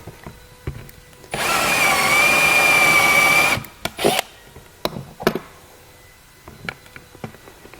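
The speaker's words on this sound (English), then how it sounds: "We're just going to grab a step bit and start drilling slowly" A step bit is drilling a hole during installation of a Roadmaster FuseMaster fuse bypass. It makes a loud, steady whine lasting about two seconds, followed by clicks and handling knocks.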